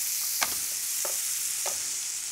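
Beef burger patties fry in a pan with a soft, steady sizzle, broken by a few brief spatula scrapes or pops spaced about half a second apart.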